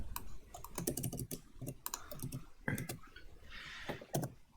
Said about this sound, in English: I'm typing in Discord